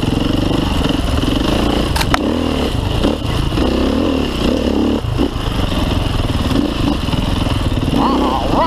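Motorcycle engines rumble and rev at the Hammer Run rally in New Jersey, a constant loud roar with clattering bursts and voices talking over it.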